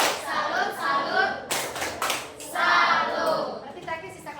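Schoolchildren in an Indonesian classroom perform a rhythmic clapping cheer, short bursts of claps in a patterned beat mixed with their chanting voices, close and lively with pauses between phrases.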